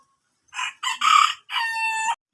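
A rooster crows nearby, a loud broken cock-a-doodle-doo in several bursts ending in a long drawn-out final note.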